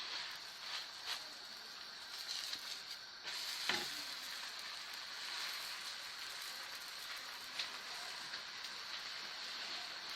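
Malawi flatbread dough cooks on a hot tajine greased with a little oil, giving a steady, even sizzle throughout with a few faint clicks and scrapes and no talking.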